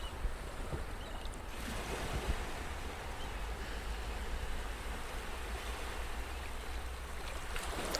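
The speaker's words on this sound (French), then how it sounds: "Et tu peux même caler ta respiration sur les vagues." Sea waves wash steadily and softly in an unbroken, airy surf with a slight rumble of wind underneath and no voices.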